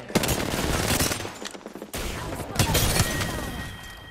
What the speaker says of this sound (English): You hear that? There's a cannon.